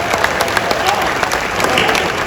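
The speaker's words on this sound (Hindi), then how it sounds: "तो आपको ताली बजानी है।" An audience at a live Hindi comedy poetry gathering claps steadily, a dense, loud patter of many hands filling the whole moment.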